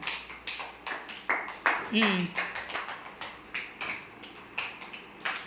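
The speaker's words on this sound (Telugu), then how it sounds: "క్లాప్స్ కొట్టండి అన్వికాకి" A group of children at an anganwadi centre clapping steadily for a classmate in sharp, even bursts, with a voice talking over the start.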